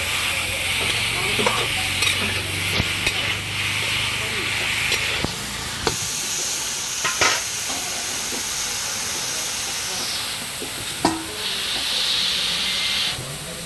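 Pork dry-frying with salt in a kadai, a continuous loud sizzle and hiss with intermittent scraping stirs and clanks from the spoon against the pan.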